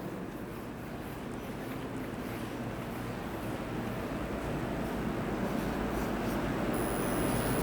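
Steady, close scratching of writing during a maths lesson, a continuous soft rustle with no voice over it.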